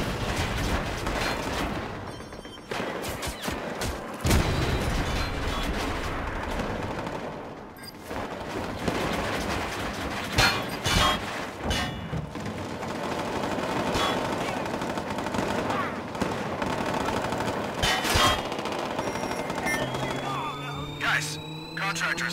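Heavy video game gunfire in Watch Dogs 2, continuous automatic bursts and single shots with booming impacts throughout, loud and dense, while voices talk and shout over the shooting.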